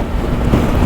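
Wind buffeting against a rider's helmet on a 2023 Honda ADV 350 scooter on a very windy day, a dense, continuous roar that stays loud and close without a break.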